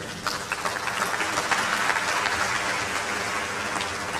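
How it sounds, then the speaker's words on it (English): A university lecture audience in Nigeria breaks into loud, dense applause, a continuous wash of clapping that holds steady throughout with no speech over it. "can we double the applause"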